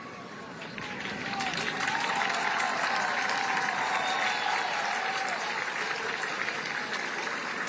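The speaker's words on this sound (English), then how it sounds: "And the home crowd giving him some applause here." A home crowd at a high school football game applauding after an injured player gets up, sustained distant clapping swelling in after a second and holding steady, with faint crowd murmur underneath.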